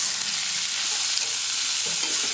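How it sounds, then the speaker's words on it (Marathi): Onions for poha sizzle steadily in a hot pan, a close, even hiss of frying with faint stirring, and no voices over it. "हे काय कांदे भाजायचे"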